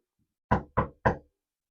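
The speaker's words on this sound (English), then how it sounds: "there's a knock at the wife's door" Three firm knocks on a door, close and evenly spaced, each a dull thud against silence.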